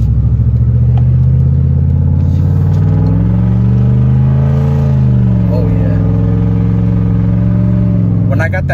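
A truck engine with a loud, farting exhaust revs up and settles, its deep harmonic drone rising and falling steadily for about nine seconds close by and dominating the scene.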